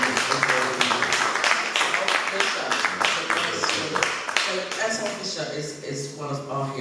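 An audience applauds at an interview event. Brisk, dense clapping runs under a talking voice and thins out toward the end.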